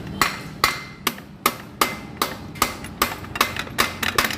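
Hammer striking parts of a motorcycle during a repair: about a dozen sharp, close knocks at a steady beat that quickens slightly toward the end.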